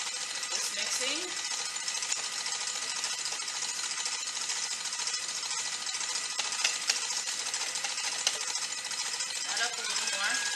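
Electric mixer whirring steadily through lemon chiffon cake batter, a dense, continuous buzzing hum that stays loud and close, with faint speech heard under it.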